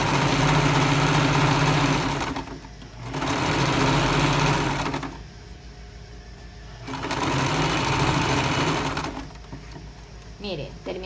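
Sewing machine stitching the side seam of a pair of women's trousers, running in loud steady bursts of about two seconds separated by short pauses, with faint handling noise between runs.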